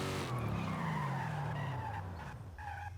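A car in a racing video game braking hard from 100 mph, tires squealing in a long falling skid that fades and drags on for a few seconds, loud and close with no talk.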